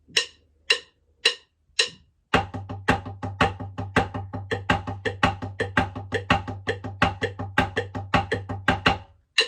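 A metronome ticks four times alone, then a snare plays rapid triplets with regular louder accents against the steady click, sustained for several measures.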